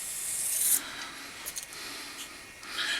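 A straight razor is drawn across a Naniwa whetstone in smooth X strokes, giving a soft, continuous scraping rasp with a brief brighter edge at the start and faint ticks along the way.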